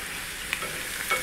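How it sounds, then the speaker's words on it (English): Fried onion baghar poured into boiling lentils gives a faint, soft sizzle with a few light clinks, no talking. "You're going to pour your onion baghar"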